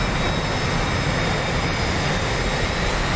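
Jet aircraft take off in formation in the DCS flight simulator, F-4s with J79 engines and a B-52 alongside in a 1965 Vietnam War raid: a loud, steady, continuous broadband jet roar with no break, no talk.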